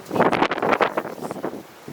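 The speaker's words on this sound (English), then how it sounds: "sorry, it's really windy outside." Strong gusts of wind buffet the microphone outdoors in short, rumbling bursts that ease off toward the end.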